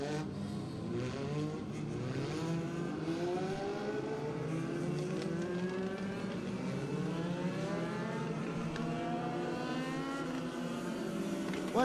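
NASCAR Modified race cars thunder around Riverhead Raceway during a heat race, a pack of engines roaring and rising and falling in pitch as they pass. The sound stays loud and continuous throughout.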